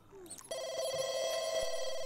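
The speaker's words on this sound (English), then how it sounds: "I'll answer the bloody phone" A telephone rings in The Sims 2, a steady electronic trill starting after a brief rustle and continuing loud and unbroken to the end, with no talk over it.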